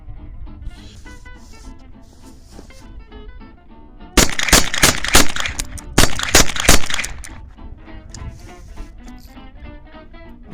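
A Taurus 942 .22lr eight-shot revolver fires a close, loud string of sharp cracks in two groups. Quieter stretches come before and after the shots.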